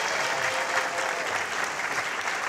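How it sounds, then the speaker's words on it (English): A late-night talk show audience applauds a guest, a dense, continuous wash of clapping at steady volume. "Let's have a nice round of applause for Peter Clavelle."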